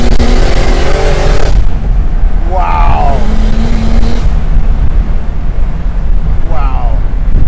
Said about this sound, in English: So you got an E30 motor turbocharged. Correct. Which I love the sound. As soon as you stand on it a little bit, you hear the wastegate.